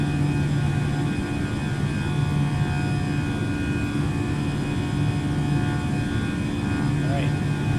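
Airliner jet engines after takeoff in Microsoft Flight Simulator 2020, a steady loud broadband roar with a low hum that never lets up.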